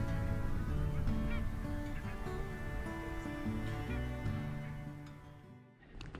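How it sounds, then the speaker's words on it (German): A large flock of barnacle geese forages on the ground beside a pond, keeping up a dense, continuous chorus of overlapping honks from many birds at close to middle distance, tapering slightly at the end. "Auch mehrere hundert Weißwangengänse suchten direkt neben der Pütte nach Nahrung."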